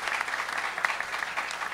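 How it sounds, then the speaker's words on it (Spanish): A short burst of audience applause at a salsa event in Medellín for the production team, a dense, fairly quiet patter of many hands clapping with no voices over it. "Y yo quiero pedirle un fuerte aplauso a todo ese gran equipo que trabaja con el señor Edgar."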